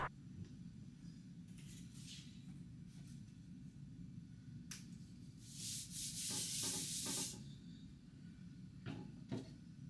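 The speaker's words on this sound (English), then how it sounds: "And then I just squeegee the ink through the screen onto the box." Squeegee dragging ink across a mesh screen onto a cardboard box, a steady scraping rub with a louder, brighter stretch midway.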